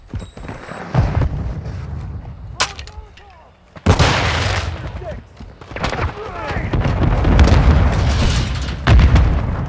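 Deep booming blasts of a grenade and other explosions in Call of Duty Modern Warfare 2 multiplayer, loud and close, two big bursts with rumbling tails and scattered gunfire, under game voice callouts.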